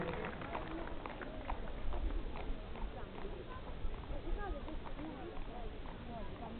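A horse's hooves clip-clop on the ground during a show at the Santa Caterina fair in Galatina, with quick irregular steps under crowd noise and a voice talking.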